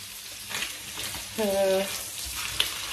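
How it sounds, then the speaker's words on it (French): A meal cooks in a pan with a soft, steady sizzle, and a brief voiced tone rises over it midway through the short stretch. "mon repas est en train de cuire"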